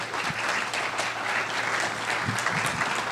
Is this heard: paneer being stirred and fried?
no